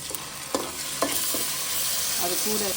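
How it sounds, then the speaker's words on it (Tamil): Chopped tomatoes fry in a pan with green chillies and curry leaves for a Tamil-style chicken gravy, making a loud, continuous sizzle with a few spoon scrapes and stirring knocks close by, without any talk. "இப்போ இந்த பக்கம் கட் பண்ணி வச்சுருக்க தக்காளி போட்டுக்கணும்"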